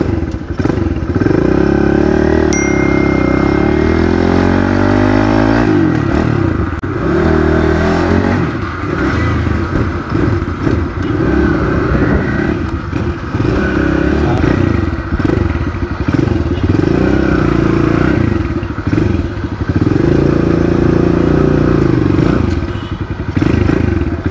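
A small Kawasaki KLX 110 RL trail bike engine revs and roars up close for the whole stretch, rising and falling with gear shifts, with occasional clattering and thumps over rough ground.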